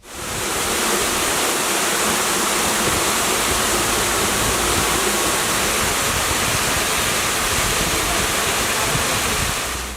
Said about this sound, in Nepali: त्यस्तै छाँगा छहरा र खोलाहरू जताततै बगिरहेका छन्